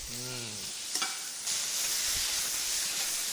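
Pasta and sugar snap peas sizzle and crackle in a hot pan, a loud continuous frying hiss after a brief voice at the start.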